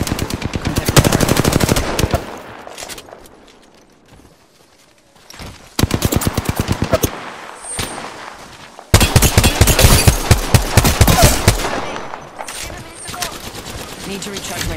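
Rapid automatic gunfire from the Apex Legends video game rattles in loud repeated bursts separated by short quiet gaps, with a voice speaking briefly between them.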